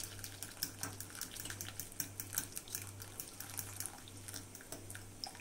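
Boiled milk pours into cooked flour in a pan for pasta white sauce and is whisked, giving a soft, faint splashing and sloshing with small irregular bursts.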